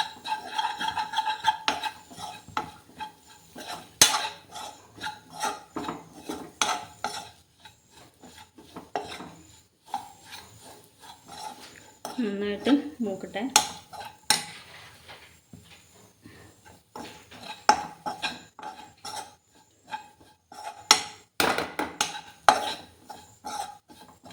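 Dry spice powders scrape and rasp as a spoon stirs them around a pan while roasting on low heat, with repeated clinks and scratching strokes at a gentle, uneven rhythm.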